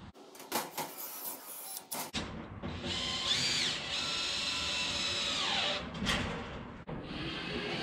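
A power tool drives and tightens bolts on an Agri-Fab dump trailer during assembly. It opens with short bursts, then a long sustained whine runs for several seconds with changing pitch before stopping and briefly restarting.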